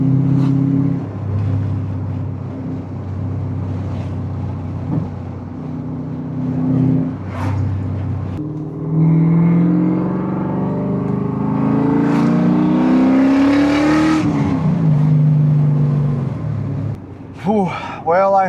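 A BMW M5 E39 with a V8 engine revs and accelerates loudly, with a rising pitch sweep as it pulls through the gears and steady low engine drone before and after.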